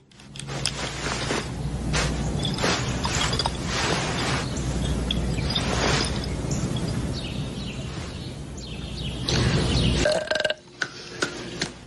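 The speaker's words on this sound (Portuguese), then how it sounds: "Querem ouvir o som de um verdadeiro arroto?" One huge, drawn-out human burp in a dubbed comedy film rumbles loudly and steadily for about ten seconds before cutting off, followed by a few small clattering knocks.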